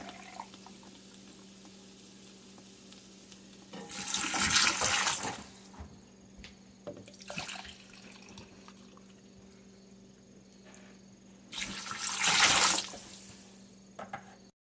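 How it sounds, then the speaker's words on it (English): Water pours into a soup pot of stuffed pepper soup in a home kitchen, two loud splashing bursts several seconds apart with a shorter trickle between, close by over a low steady hum. "So I'm going to start adding my water."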